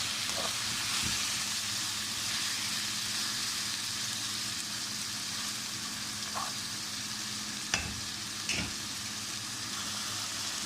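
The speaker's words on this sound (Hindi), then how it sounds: "इसको अच्छी तरह मिक्स कर देंगे और इसको इसी तरह भूनते रहेंगे" Chicken korma with spices frying in a pan, a steady close sizzle with a few brief scraping knocks of stirring, no voices.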